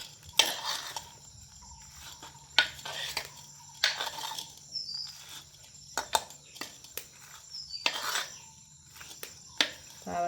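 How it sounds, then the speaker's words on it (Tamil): Bitter gourd sambal with lime juice being mixed by hand in a bowl, with intermittent scraping and clinking of a spoon against the dish over a quiet background of insect chirps. "எல்லாத்தையும் சேர்த்து கலந்து விடப்போம்"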